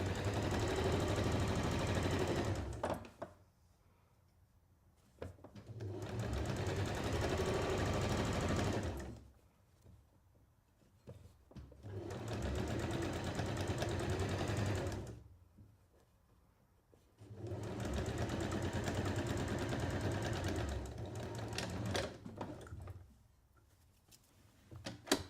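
A sewing machine stitches a sashing strip onto a half-hexagon quilt in four long, steady runs of several seconds each, with quiet pauses between them, close and clear.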